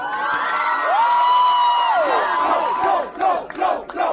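A dense concert crowd at a tenth-anniversary Antenna show cheering and shouting, a loud sustained roar with a rising whoop, then choppier bursts of yells toward the end.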